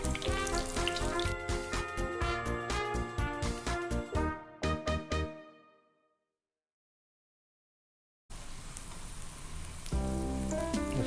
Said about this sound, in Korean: 이 작업은 뭐냐면 마늘 오일을 만드는 거예요